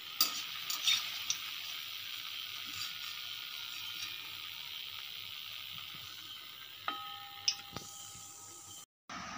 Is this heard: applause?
no